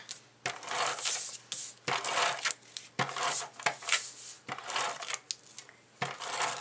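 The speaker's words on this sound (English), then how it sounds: "using my ATG gun again, get my tape on" An ATG tape gun runs adhesive tape onto a cardstock layer, making repeated close, scratchy strokes that each end in a short click, in a steady rhythm with brief gaps.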